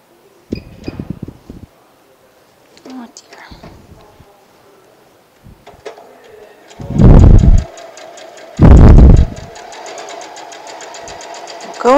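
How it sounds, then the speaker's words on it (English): A sewing machine stitches pieced quilt fabric with a quarter-inch seam in two loud, rapid bursts of steady needle clatter, interrupted by quieter handling sounds and someone speaking at the start. "So now I'm just going to sew these like usual with my quarter inch seam allowance."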